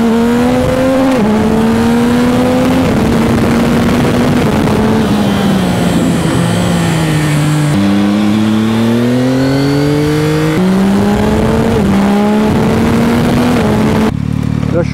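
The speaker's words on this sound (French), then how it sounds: "Il patine, faire patiner l'embrayage un peu." A Yamaha MT09 motorcycle engine revs loud and close with a slipping clutch, its pitch rising and falling in long sweeps while a rider talks over the sound.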